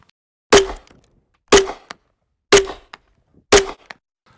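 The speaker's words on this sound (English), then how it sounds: "So next we will add grenade launcher." A grenade launcher layer for a silenced shotgun sound effect, played as four identical sharp thumping shots spaced evenly about a second apart, each with a short decaying tail, loud and isolated against silence.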